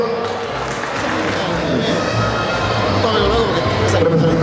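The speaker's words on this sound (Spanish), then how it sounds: "Aplauso para don Héctor" A seated crowd applauds don Héctor at a Labour Day ceremony, a dense, continuous patter of many hands that holds steady throughout.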